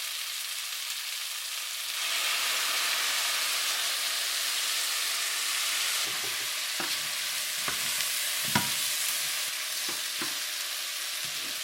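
Steak and potato pieces stir-fry in a hot pan as cooking wine goes in, the sizzle surging into a loud, steady hiss, with scraping stirs and light knocks of the utensil breaking through it.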